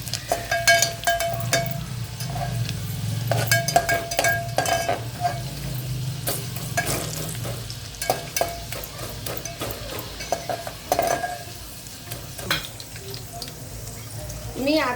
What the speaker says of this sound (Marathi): मी गॅस बारीक करून हे फोडणी तयार करत आहे